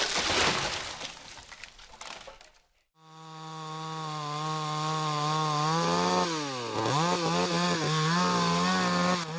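A 1959 Stihl Contra chainsaw cuts into a pine tree during felling: a harsh ragged burst of cutting noise, a brief drop, then a loud sustained two-stroke engine drone that bogs and wavers in pitch as it bites.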